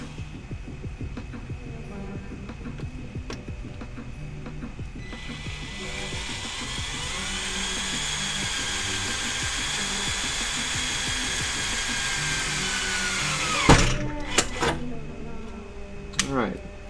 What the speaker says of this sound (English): and we can drill our final hole.